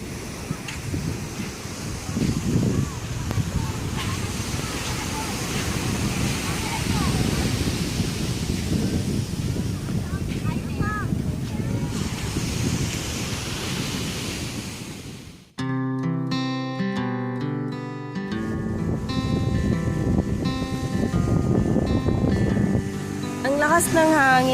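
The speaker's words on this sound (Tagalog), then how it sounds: "Ang lakas ng hangin, grabe." Strong wind on the Pagudpud coast buffets the microphone in a loud, continuous roar with surf-like rushing, cut off partway by music that plays as the wind noise returns underneath.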